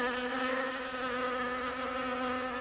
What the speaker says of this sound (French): Et ces abeilles qui font beaucoup trop de bruit.